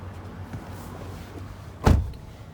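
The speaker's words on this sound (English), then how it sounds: "you also have your power mirrors and power folding mirrors" Power folding side mirrors on a 2021 Toyota Sequoia: a low motor hum followed by a short, sharp mechanical thunk as the mirror locks in place, close and alone without talk.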